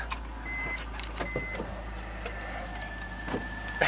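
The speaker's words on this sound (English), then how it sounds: "And the windows work." Power windows in a car whir up and down in short electric motor runs, several brief bursts with small clunks between them, heard close up over a low steady hum inside the cabin.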